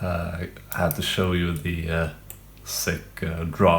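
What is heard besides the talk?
No everyday noise stands out behind the speech.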